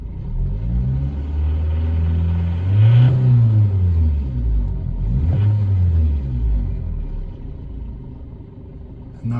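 A 2000 Toyota Corolla E11 facelift 1.6 engine, with check engine light on, is revved high twice, each time rising to a loud whine and sinking back to a steady idle rumble, close up, no talking.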